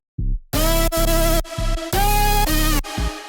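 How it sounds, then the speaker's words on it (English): Heavy drum and bass drop with a thick, distorted bass line stabbing in bursts, pounding low end and bright gritty upper tones, no chord layer, loud and alone. "So the drop without chords sounds like this."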